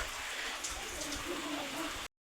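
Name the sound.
heavy rain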